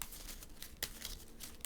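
Marvel Champions cards are shuffled back into a deck in soft, faint papery riffles and crinkles, with two sharper snaps, close and quiet.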